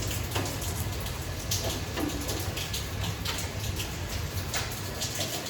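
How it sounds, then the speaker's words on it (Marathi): Steady Pune rain patters continuously, a dense hiss of drops with occasional louder ticks and a low rumble underneath. "पुण्याचा पाऊस तर काही थांबायचं नावच घेत नाही."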